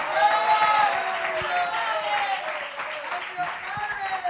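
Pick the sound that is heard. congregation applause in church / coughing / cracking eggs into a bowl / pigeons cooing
congregation applause in church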